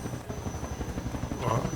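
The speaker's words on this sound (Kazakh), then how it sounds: "Вертолеттің дауыс шығып тұр" Helicopter in the Roblox bank-robbery obby game, a steady low rotor chop pulsing throughout the short stretch at moderate level, briefly swelling near the end.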